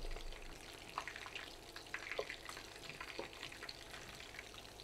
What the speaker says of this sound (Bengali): প্রায় তিন থেকে চার মিনিট এক সাইড ভেজে নিলাম উল্টিয়ে দিচ্ছি